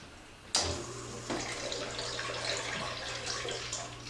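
Line-cleaning solution suddenly gushes through a homebrew beer tap into a pail, then keeps up a steady, close, splashing flow with no talking.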